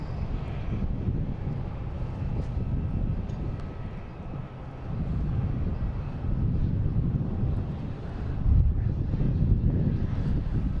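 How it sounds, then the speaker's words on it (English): Airbus A321 airliner taking off at Boston Logan International Airport, a loud sustained low jet roar with broad rumble and some wind buffeting, swelling slightly toward the end, no talk. "An A321. That's jumping right up."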